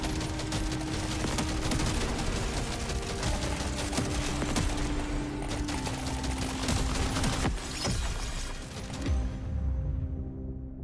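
Boomstick shotgun firing in Deep Rock Galactic Survivor amid a continuous barrage of rapid game gunfire and impacts, loud and dense throughout, ending abruptly.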